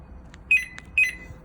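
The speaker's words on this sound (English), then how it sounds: "So one beep means that the alarm is on" A car key fob alarm setter for a 2021 Buccaneer Bermuda caravan sounds two quick, high electronic beeps, close and distinct over a faint low background hum.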